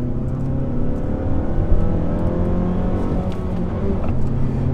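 Engine of a 2021 Mazda3 or Kia Forte5 GT hatchback with six-speed manual revving hard in a drag race launch with traction control off, tires spinning; a steady loud droning roar holds throughout with no talk.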